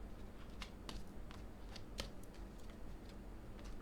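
Cards handled and drawn from a deck at a table, heard as a faint series of soft, crisp flicks and snaps spread irregularly across a few seconds over a quiet background hiss.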